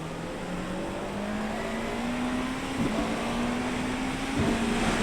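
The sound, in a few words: Porsche 963 GTP race car driving in the wet, video game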